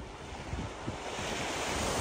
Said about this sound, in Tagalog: Ayun, makulimlim na. Oy, tahimik. Ang dagat.